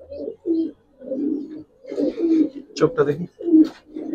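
Giribaz silver pankhi pigeons coo in a series of soft, low, throaty bursts, close by. Someone talks between and over the calls.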